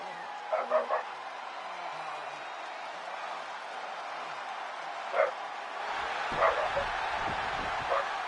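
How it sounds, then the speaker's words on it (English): A dog barks and yips in bursts somewhere in the background of a backyard submission-wrestling match, the short excited barks scattered over several seconds beneath a steady hum of room noise and voices. "You may be able to hear Charlie Dog in the background losing his mind"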